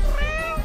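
A cartoon cat lets out a single drawn-out meow, bright and close, with a wavering pitch over a faint background.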